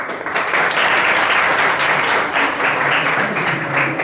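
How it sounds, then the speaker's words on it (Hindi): Loud, sustained applause from a seated audience at a motivational talk, a dense wash of clapping filling the whole stretch with slight swells and no voices above it. "आप लोग जोरदार ताली"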